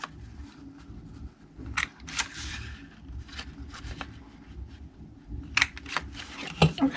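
A corner punch rounds the corners of scored cardstock for a flip top box, producing several sharp crisp clicks and snaps spaced a second or so apart, up close against a quiet room.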